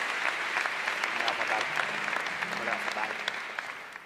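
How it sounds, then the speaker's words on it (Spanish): An audience at a national canoeing awards gala claps for a singer, a fairly faint but steady wash of applause, with a voice speaking briefly over it. "Un aplauso fuerte para Fran."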